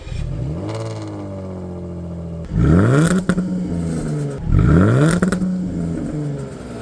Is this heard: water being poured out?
no